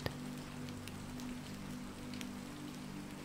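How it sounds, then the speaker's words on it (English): Steady rain patters on skylights overhead on a quiet night, a soft, even hiss with a few faint scattered drops and a low hum underneath. "as the rain pelts on skylights overhead"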